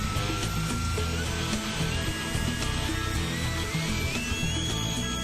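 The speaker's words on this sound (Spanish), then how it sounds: "Ya se puede encender el motor en el banco de pruebas." An RC model jet engine runs on a test bench, a loud continuous whine with a high tone that climbs steadily in pitch over a dense rumbling roar, alone and close.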